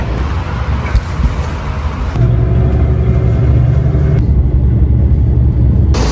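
Interior of a city bus riding through Izmir on a hot day, a steady loud engine rumble and road noise throughout, with the drone shifting in pitch midway as the bus changes speed.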